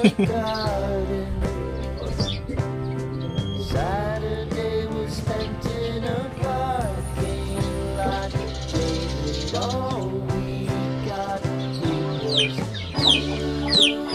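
Many chickens clucking and cackling together, a busy, continuous chorus of overlapping calls close by with occasional higher squawks.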